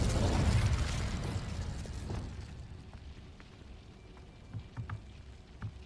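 An Incendio fire spell goes off in Hogwarts Legacy with a loud whooshing burst that fades into a crackling, rumbling tail, followed by a few faint pops and knocks.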